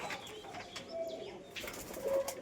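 Fancy pigeons, Sirajee, Lotan and similar breeds, kept at a loft, cooing softly in short low calls with a brief flutter of wings and light chirps nearby, no talk.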